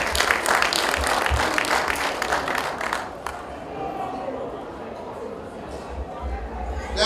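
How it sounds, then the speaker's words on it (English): Audience applause at an Oniru Kingdom coronation-week tree planting event in Lagos, a loud dense burst of clapping over the first three seconds that thins into lighter scattered claps and crowd noise. "Please let's give a round of applause to Oniru Kingdom."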